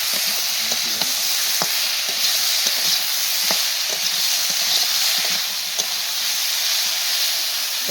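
Ridge gourd, potatoes and taro stirred in a hot pan, a constant loud hissing sizzle with regular scraping strokes of a spatula, close up.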